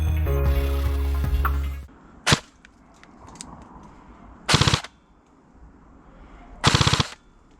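A CYMA CM.009F XM177 E2 airsoft rifle fires in a rate-of-fire test. A loud motor whine with rapid shots opens the clip, followed by a single crack and then two short, fast full-auto bursts, all close with quiet gaps between.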